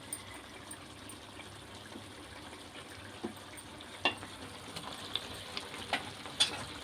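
Mint paste frying in a pan for egg khichdi gives a quiet, even sizzle scattered with small irregular crackles and pops that grow a little more frequent toward the end.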